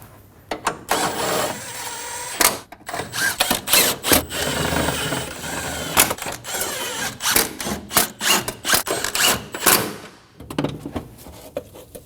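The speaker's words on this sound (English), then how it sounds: "Go around and snug down all of the bolts." A power tool snugs down bolts on a 2008-2015 Scion xB 2.4L four-cylinder during engine knock sensor replacement, producing repeated close, loud bursts of whirring and rattling with brief pauses between them and no talking.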